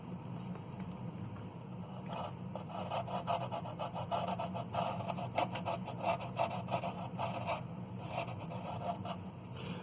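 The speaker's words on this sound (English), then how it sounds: "I'm just going to use my tools here to smoothen them all out and paint them." Hand tools rub and file at model parts for a USS Enterprise-D starship build, a steady close rasping scrape repeated in quick strokes, fairly quiet, with no talking.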